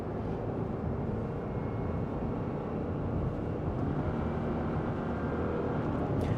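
2024 Subaru Impreza RS with a CVT driving over rough pavement, heard from inside as a steady, loud low road rumble and tyre roar with faint bumps, no talking.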